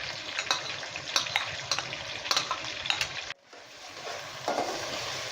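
Ten to twelve chopped green chillies go into a pan of frying beef yakhni pulao, raising a loud sizzle with stirring scrapes that briefly drops away near the middle before the frying hiss resumes.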